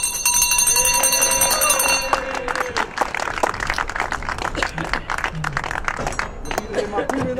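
A hand bell rings loudly and rapidly for about two seconds to open a festival, then applause and crowd noise follow with scattered voices.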